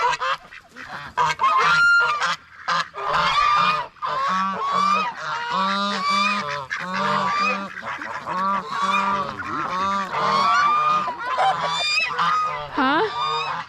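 Geese on a farm honk loudly and continuously, a dense overlapping chorus of harsh nasal calls repeating in rapid bursts with barely a pause throughout.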